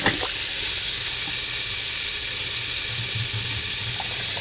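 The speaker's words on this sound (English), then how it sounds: "Some nice hot water down there and flush all that muck out of there" Hot water runs steadily from a tap into a hand sink clogged with liquid hand soap, a continuous hissing rush close to the microphone with faint gurgling underneath, no voices.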